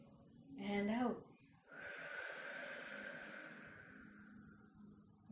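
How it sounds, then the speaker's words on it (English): A slow, deep breath drawn in audibly through the nose during a guided meditation, then a long, airy exhale, close and soft, preceded by a brief spoken voice. "Take a few deep breaths in"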